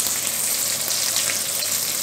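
Chicken thighs fry in hot oil in a skillet, a dense, steady sizzle with fine spattering crackles as moisture hits the fat, close and continuous throughout.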